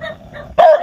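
A pitiful dog lets out one loud, sharp yelping bark about halfway through, after a few soft whining sounds, close by with no talking.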